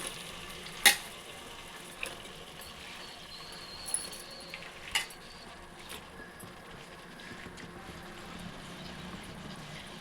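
Small fish drop into hot, oil-separated garlic and green chili paste for a tamarind fish curry. A few sharp crackles and pops over a steady low sizzle, close and moderately quiet, with no talking.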